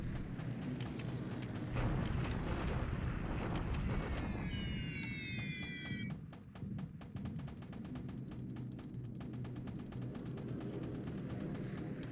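Dense rumbling bombardment in a World War II era war strategy game, low booms and crackling blasts overlapping continuously at steady loudness, with a brief high whistling sweep partway through and no talking.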